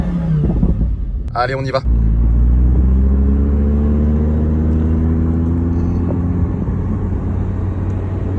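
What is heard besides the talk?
Audi R8 Spyder engine with exhaust valves open, dynamic mode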